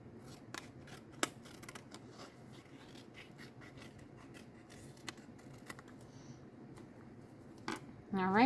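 Scissors snip through paper while a paper house model is cut out, with soft rubbing and handling sounds, occasional sharper snips and brief talk near the end.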